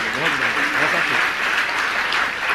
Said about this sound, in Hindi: तालियां बजाने से कुछ नहीं होगा भाइयों